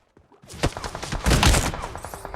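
Bursts of gunfire in a battle royale video game, several sharp shots clustering into a dense volley in the middle, then scattered quieter reports trailing off, with no talk.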